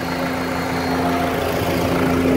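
A pickup truck's engine runs at a steady, loud, close drone with a strong low hum that holds throughout, with no talk over it; the vehicle is from a road test of a Hilux, Ranger and Corolla.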